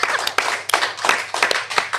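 A few people clap in irregular bursts during a podcast recording, the claps close and fairly sharp, separated by short gaps.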